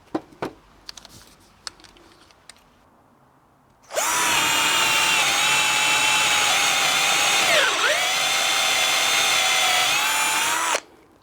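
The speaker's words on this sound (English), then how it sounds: "Now I'm going to add some bigger holes as well." A power drill bores larger holes into timber for an insect hotel, a loud steady whine held for about seven seconds with a brief dip under load, preceded by a few scattered knocks and clicks.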